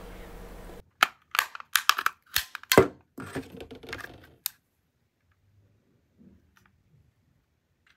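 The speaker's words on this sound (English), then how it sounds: "I personally like to use the flathead screwdriver and work the corners like you see there, and it easily pops off after one or two tries." A flathead screwdriver pries at the corners of an Xbox Series X controller's plastic shell, giving a quick run of sharp plastic clicks and snaps before the case pops free, then near silence.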